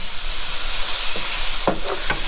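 Venison meat sizzles steadily in a pan, a close, even frying hiss with a few soft clinks and stirring scrapes near the end.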